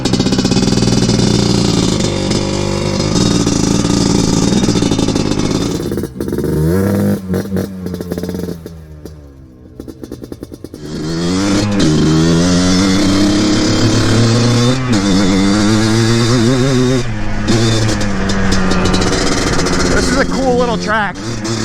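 A Yamaha Blaster ATV engine idling and warming up: a loud, close two-stroke buzz that dips into a brief stall-like lull, then rises again with revving tones while a person talks over it.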